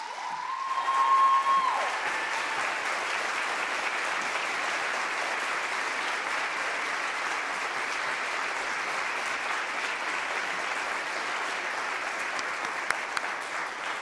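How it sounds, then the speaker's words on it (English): Sustained audience applause fills the room for the whole stretch, steady and dense with a slight swell at the start, no voices over it. "Let's give her another round of applause, please."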